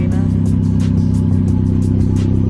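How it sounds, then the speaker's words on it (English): A Toyota MR2 engine runs with no exhaust fitted, giving a loud, raw, close idle with steady rhythmic pulsing and light revving. Mechanical clatter sits under the drone, and nobody speaks. "as you can surely hear, we have no exhaust on at the moment"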